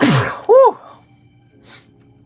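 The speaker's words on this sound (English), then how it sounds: "This room makes me sneeze." One sharp, close sneeze from a person in a dusty room, a quick intake of breath bursting into a loud snap, followed by a faint exhale and a brief soft rustle.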